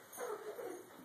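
A dog wearing a balloon wiener-dog costume lets out faint, thin whimpers and whines, soft and close, with a slightly louder rise near the end.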